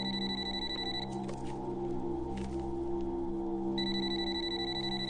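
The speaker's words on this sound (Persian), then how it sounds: "تلفن زنگ میزند، کنی بین؟" A telephone rings in bursts of a trilling electronic bell, one at the start and another near the end, over a steady humming background with no talk.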